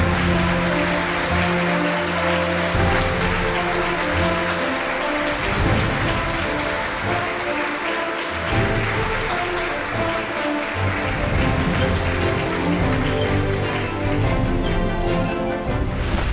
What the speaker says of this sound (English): a round of applause for all the awardees